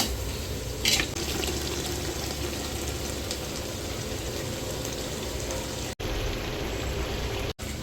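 Water pours steadily into a pot of cooking mutton biryani, a continuous splashing rush at low volume with a brief brighter splash near the start.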